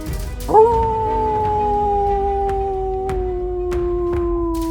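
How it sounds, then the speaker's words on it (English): A single long, mournful wolf howl starts abruptly and holds a steady, slowly falling pitch, loud and clear with a few faint clicks behind it. "Again, the howl echoed up into the cave."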